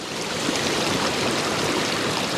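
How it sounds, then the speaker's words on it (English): Sea waves wash in and out on a rocky shore, a steady close wash of churning water with a gentle swell in loudness. "I'm going to wait for this wave to come in"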